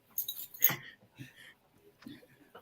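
A dog gives faint, high whimpers and short yips in a few quick bursts, with soft voices nearby.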